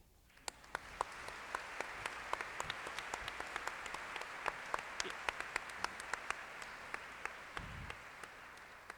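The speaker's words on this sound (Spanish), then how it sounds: "les suena como granizo el aplauso de nuestro público en este auditorio" Audience applause in an auditorium, a fairly faint, steady patter of many hands with distinct individual claps, rising quickly at the start and sustained throughout.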